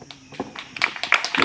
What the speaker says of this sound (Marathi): एवढ्या टाळ्या वाजवू नका